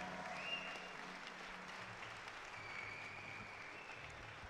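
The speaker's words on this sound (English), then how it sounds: "a round of applause for Stefano Gisolfi, and of course, happy birthday." Audience applause at a bouldering competition, a steady, fairly quiet wash of clapping from a crowd that continues evenly for several seconds.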